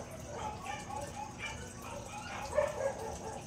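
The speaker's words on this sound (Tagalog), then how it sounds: "ang ingay ng mga aso." Dogs bark and yip in short bursts somewhere off at a moderate distance, mixed in with a person talking.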